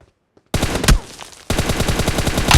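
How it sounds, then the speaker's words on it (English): Firearm shots in PUBG Mobile, rapid automatic bursts of loud close gunfire after a near-silent start, with a brief pause between two volleys of evenly spaced rounds. "Tap right fire button to shoot."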